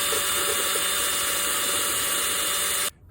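A steady, loud electric drill whines continuously for almost three seconds while drilling out the end of a motorcycle clutch cable, then cuts off abruptly, leaving near silence.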